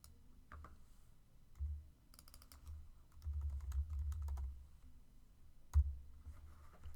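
Typing on a computer keyboard, soft irregular key clicks and occasional thuds from the keys, quiet and close with no talking.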